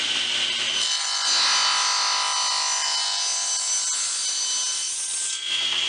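A table saw makes a shallow quarter-inch cut in wood, giving a steady loud whirring rasp that rises as the blade bites and holds for several seconds before easing off, with no talk.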